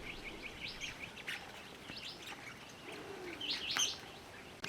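Mulga parrots give bursts of sharp, high chirps and whistles at a watering trough in the Australian outback, several birds calling close by against a quiet background.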